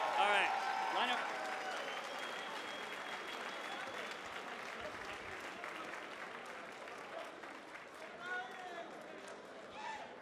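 An audience at a gaming tournament finals party applauds the winners, sustained dense clapping from a large crowd with voices mixed in, fading slightly toward the end.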